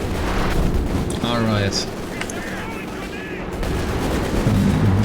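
Strafing support gunfire in a World War II strategy video game, with heavy booming shots and rumbling impacts throughout, heard under a commentator's voice.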